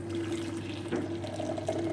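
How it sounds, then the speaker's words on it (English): Boiling water pours into a jug holding stock cubes, a steady close gurgling stream with a rising filling tone over about two seconds, with no voices. "we've popped the stock cubes in a jug and we'll put in about a pint of boiling water"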